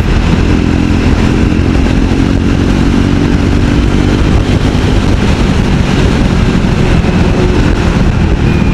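A Triumph Scrambler 400X cruises at over 100 km/h on the highway, its loud, steady engine drone mixed with heavy rushing wind across the whole stretch.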